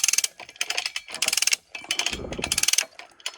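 Hand-crank winch ratchet dragging a raft ashore, rapid metallic clicking in repeated bursts of several seconds with short pauses between cranks, close and fairly crisp, with a low grinding scrape partway through.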